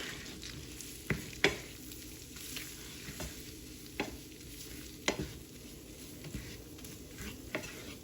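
Flour cooks into sausage gravy in a pan, a soft steady sizzle broken by repeated scrapes and clicks of a utensil stirring against the pan, close and fairly quiet with no talking.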